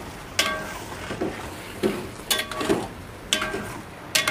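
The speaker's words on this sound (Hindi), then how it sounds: "अब मैं इसमें डालूंगा टमाटो प्यूरी, ये फ्रेश टमाटो प्यूरी है। और अब हम इसको अच्छी तरह भूनेंगे।" Fresh tomato puree being sautéed for a dhaba-style chicken curry: about six sharp, evenly spaced spatula scrapes over a faint, soft sizzle.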